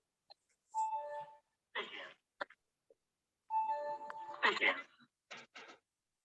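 A GMC exam station bell for a cardiology PLAB 2 practice station rings in two clear tonal bursts a few seconds apart, with short coughs or throat sounds and brief voices in between.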